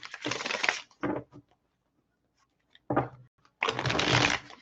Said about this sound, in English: I want to give this 2 more shuffles